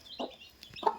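A hen clucks near a clutch of newly hatched chicks, two short soft clucks a moment apart with faint high chick peeps between them.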